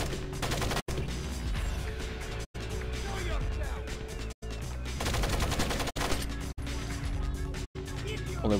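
Rapid gunfire from the Splinter Cell stealth action game, loud and dense bursts filling most of the span, broken by several short silent gaps, with talk over the shooting.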